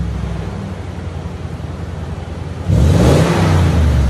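A Toyota Tundra 5.7L V8 with a TRD exhaust idles with a deep, close rumble, then the throttle is blipped into a loud, sudden rev that holds through the end.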